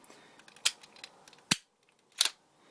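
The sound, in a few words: spring-loaded cannon firing on Transformers Classics Jetfire toy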